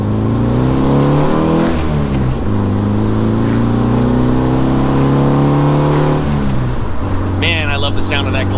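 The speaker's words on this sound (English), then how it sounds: "Love the sound of that glass pack." Air-cooled engine of a 1968 VW Fastback with a glass pack exhaust, a steady loud droning rumble that rises and falls with shifts while driving, with brief talk over it.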